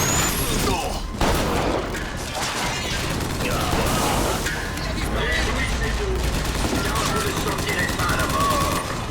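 Shotgun blasts from the video game Bioshock Infinite, dense loud gunfire and crashing impacts throughout amid game effects, with someone talking over it.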